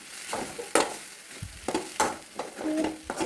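Spinach thoran, a Kerala-style stir-fry, stirred in a pan that is starting to stick, a series of soft scraping strokes with faint sizzling between them, close and moderately quiet.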